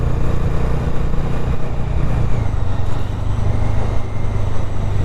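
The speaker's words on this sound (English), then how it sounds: "it needs a little bit of downshifting" A Bajaj Dominar 250 motorcycle is ridden while downshifting, making a steady engine drone mixed with wind rush that shifts pitch partway through.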